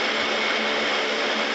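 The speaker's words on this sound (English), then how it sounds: "get ready for takeoff. I mean for landing." An airplane coming in to land produces a continuous broadband engine roar, loud and unbroken, as heard from inside the cabin during the ride.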